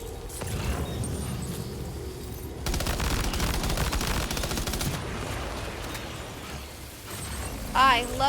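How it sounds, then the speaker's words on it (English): Explosions and rapid gunfire in the Death Stranding 2 video game, a dense barrage of bursts and crackling blasts with a sharp jump in intensity partway through, loud and close. "I love being close to the explosions."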